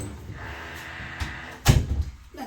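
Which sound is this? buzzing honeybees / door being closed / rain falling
door being closed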